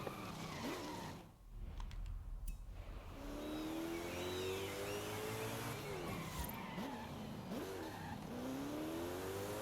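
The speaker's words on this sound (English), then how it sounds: "Car is driving way too slow." Car engine revving and shifting gears in the racing game Forza Horizon 5, rising and falling pitch with tire squeal, loud and close with no talk.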